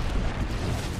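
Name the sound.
grenade explosion in Apex Legends video game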